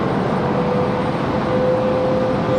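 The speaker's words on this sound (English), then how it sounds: "Frontier 1234 coming in from the House of Mouse, coming in from Orlando. Going to be our next arrival." A Frontier airliner on arrival at Raleigh-Durham airport from Orlando, a steady broad roar with a thin whining tone through it, loud and unbroken for under three seconds.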